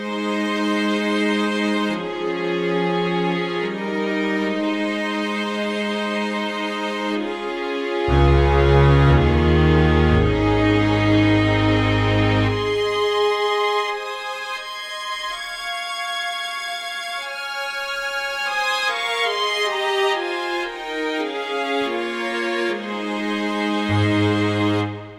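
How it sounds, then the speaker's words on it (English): Spitfire strings sample played on a Nord Grand 2 88-key stage keyboard: a sustained, expressive orchestral string passage with layered chords, a heavy low swell in the middle, then rising lines, alone with no talk. "new additions to the sound library is the Spitfire strings."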